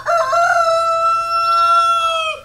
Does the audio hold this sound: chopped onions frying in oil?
no